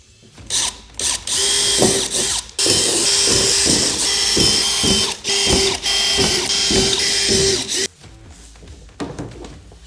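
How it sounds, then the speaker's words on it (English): A power drill whirs in repeated short bursts, revving up and stopping several times as it bores bolt holes into a composite toilet partition, loud and close. "I'm just going to take a drill and drill out these locations."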